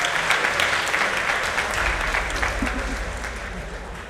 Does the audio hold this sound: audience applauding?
yes